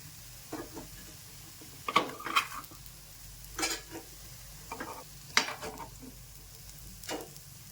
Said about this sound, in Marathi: किती छान फ्राय झालेला आहे बघा